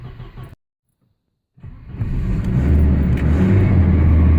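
A 1983 Volvo 240 coughs briefly, falls silent, then cranks and catches into a loud, steady, high-revving idle rumble that holds close and constant with no talk.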